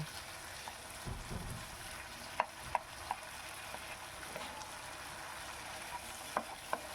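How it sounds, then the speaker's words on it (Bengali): Tangra fish masala with tomato and potato being stir-fried in a pan, giving a steady low sizzle with a few sharp clicks of a spatula against the metal, moderately close and with no voices. "দেখুন ভালো করে একটু কষিয়ে নিচ্ছি"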